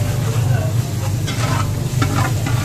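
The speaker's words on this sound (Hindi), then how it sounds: "जिंजर गार्लिक को पेस्ट को हम हल्का सा भूनेंगे" Ginger garlic paste sizzles and fries in a pan while a spoon stirs it with steady scraping strokes, close and fairly loud, with a low continuous hum beneath.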